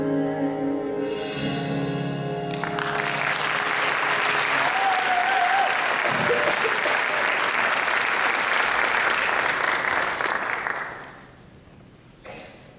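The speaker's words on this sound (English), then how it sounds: "Another round of applause for our soloists." An audience at a spring choral concert claps steadily and loudly for about ten seconds after a sung ending, then the applause fades out quickly.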